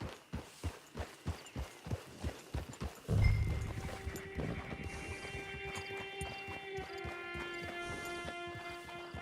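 Horse hooves clip-clop at a steady walking rhythm in Red Dead Redemption 2 for about three seconds, then give way to a sustained hum with faint tones and a soft whinny-like texture.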